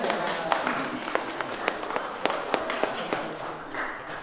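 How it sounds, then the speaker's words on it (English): An audience at a talk by a freelance photographer claps, giving a sparse patter of separate hand claps over a murmur of voices. "Let's clap. Let's clap."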